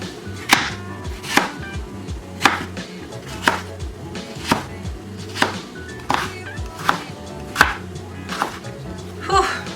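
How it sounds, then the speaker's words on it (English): Carrots being chopped into long pieces on a board, a steady series of about ten sharp knife strikes spaced roughly a second apart, close and clear with no talk. "So I'm gonna chop this carrot up into pretty long"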